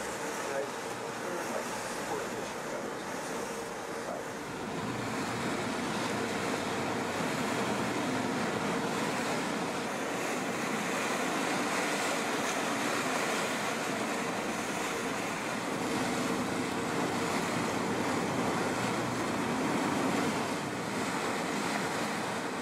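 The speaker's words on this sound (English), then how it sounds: "Reefs with jagged rocks and bursting surf extend well out from the land." Heavy surf bursting over jagged rocky reefs off the Channel Islands of California, heard as a steady broadband roar with wind, fairly loud and continuous throughout.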